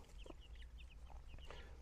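A broody hen clucking close by, a quick run of short, sharp clucks with brief pauses between them.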